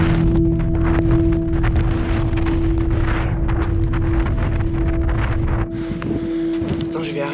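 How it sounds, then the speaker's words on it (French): Strong wind gusting across a mountain summit, roaring steadily and buffeting the microphone close up, easing slightly near the end. "Le vent qui souffle."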